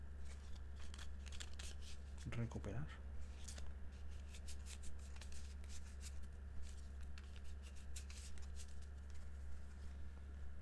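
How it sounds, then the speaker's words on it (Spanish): Arkham Noir playing cards being shuffled by hand at a tabletop, a brief close crisp riffle under quiet Spanish speech, with soft handling rustles and a steady background hum. "barajar el descarte, y lo voy a barajar"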